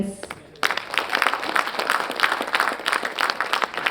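Audience applause at a solar energy knowledge-exchange event: after a brief quiet moment, clapping bursts in abruptly and continues as steady, dense applause to the end.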